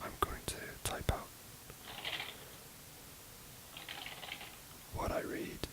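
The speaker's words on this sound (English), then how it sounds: "I'm going to type out" Close, quiet computer keyboard typing in an ASMR session, with a few sharp key clicks at the start and a short burst near the end, separated by soft whispering.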